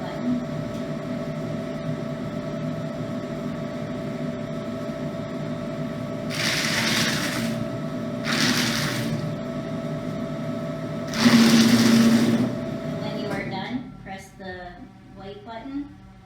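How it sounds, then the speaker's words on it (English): Paper shredder running in several short grinding bursts, each roughly a second long, over a steady motor hum, with a voice speaking around them. "now you can proceed with your shredding job by pressing the black button"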